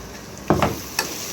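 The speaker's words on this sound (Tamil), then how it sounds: "அதையும் நம்ம இப்போ எண்ணெயில் நல்லா வதக்கிடுவோம்" Ground fennel and cloves hit hot oil with a brief sizzle, and two quick stirring scrapes rise over a steady frying hiss, close up and with no talking.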